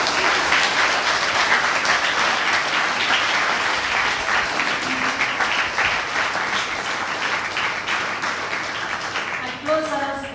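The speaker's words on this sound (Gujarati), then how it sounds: "માધુરીબેન, આ વર્કશોપના સંચાલકો અને લાઇબ્રેરી પરિવાર માટે ફરી તાળીઓ થઈ જાય આપણો" A library vacation reading-festival opening ceremony audience claps in sustained, dense applause that fills the whole stretch at steady loudness, thinning slightly near the end.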